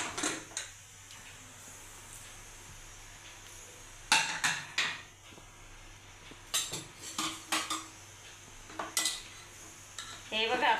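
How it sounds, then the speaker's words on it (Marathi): A pressure cooker, fully cooled after five or six whistles, is opened in a home kitchen: sharp metallic clanks and rattles of the lid and pot come in bursts over a quiet background, with no talking. "तर आता खोलून बघू आपण कुकर।"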